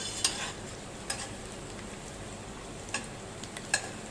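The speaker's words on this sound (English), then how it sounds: "We are going to saute the onions" Onions sautéing gently in a pan with a pinch of salt, for mutton sukhe. A soft, steady low sizzle carries under a few light scrapes of a stirring spoon, quiet and close, with no talk.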